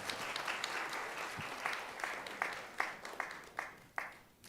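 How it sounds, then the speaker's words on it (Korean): Applause from a modest audience at a graduate school degree-conferral ceremony. The clapping is fairly light, with individual claps standing out in a loose, uneven rhythm, and it stays moderately distant and steady without speech. "박수로 축하해 주시기 바랍니다."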